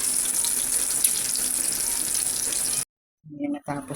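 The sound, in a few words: stuffed eggplant frying in oil in a pan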